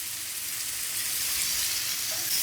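Okra with masala fries uncovered on a hot tawa, a loud, continuous hissing sizzle that stays even from start to finish, with no voices.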